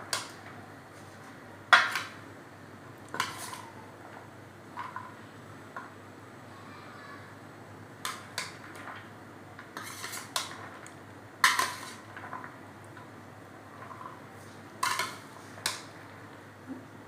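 A spoon clinks and scrapes against a bowl while chana chaat is stirred together with potatoes, scattered light taps and rattles at irregular intervals over a quiet background.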